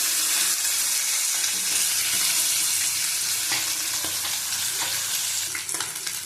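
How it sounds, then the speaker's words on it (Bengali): Pieces of rohu fish fry in hot oil in a pan, giving a loud, continuous crackling sizzle that holds steady throughout with small spits and pops. "এইভাবে ভেজে নেবো সব মাছগুলো।"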